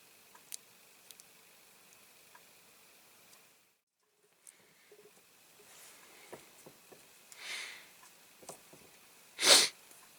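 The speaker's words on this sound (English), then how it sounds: "Oh, excuse the sniffing, I've got another bout of the lurgy." Quiet room with a few soft sniffs, then a louder sharp sniff near the end, close to the listener, with faint ticks in between.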